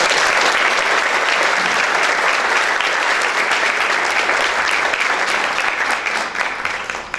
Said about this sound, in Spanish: a quien le pido un fuerte aplauso.